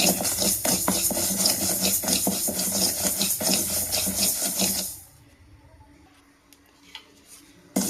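Finger millet dry-roasts in a pan with a dense gritty rasp of grains stirred and scraped for about five seconds, then falls to near silence.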